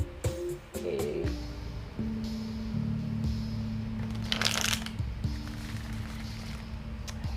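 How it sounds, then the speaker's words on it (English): A deck of tarot cards is shuffled close by, with soft riffling flutters and a brief burst of crisp card noise midway, over a low steady room hum. "Okay, we're shuffling the cards now."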